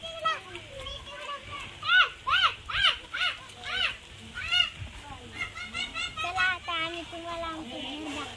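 Chickens cluck and squawk in quick repeated calls nearby while children chatter and shout around them.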